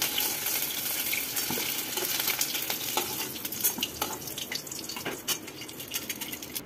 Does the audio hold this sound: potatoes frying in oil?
yes